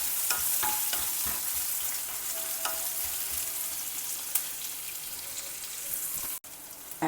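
Onion slices sauté in oil for a spiced Indian vegetable dish, giving a bright, continuous hiss and crackle with scattered small pops and an occasional stir, close by.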